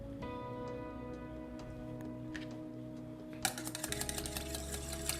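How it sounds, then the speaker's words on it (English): Olive oil and soy sauce marinade being mixed in a bowl: a quiet hum, then a rapid, steady run of light clicking and tapping as a utensil works against the bowl. "What we're going to do is we're going to go ahead and give this a mix."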